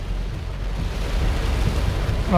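Heavy rain falls in the open countryside between Ranavav and Bileshwar, a steady low rumbling wash with wind, continuous and fairly close for the whole stretch.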